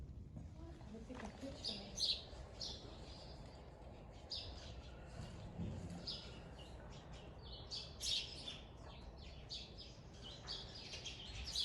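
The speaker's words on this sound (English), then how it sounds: "These are all the birds." Several birds chirp and call outdoors along a rural walking route in Spain in the early morning, with scattered tweets through the whole stretch over a steady low rumble of wind or movement.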